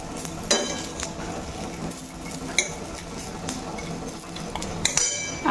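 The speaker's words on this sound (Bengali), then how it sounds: "এই যে দেখো আমার এখন পেঁয়াজি ভাজা হচ্ছে।" Onion fritters (peyaji) cook in a pan, with a low continuous sizzle beneath clinks and scrapes of utensils and cookware, and a few sharper knocks rising through the steady kitchen noise.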